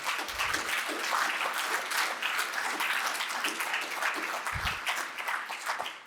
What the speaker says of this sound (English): I wasn't expecting a clap at the pill count